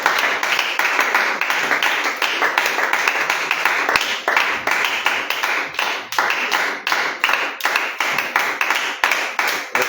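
A church congregation applauding in steady, rhythmic unison, with loud, close claps repeating at an even pace throughout.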